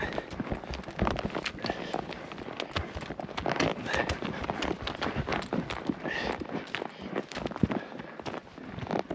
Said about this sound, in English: That's why I need a big horse like Calabar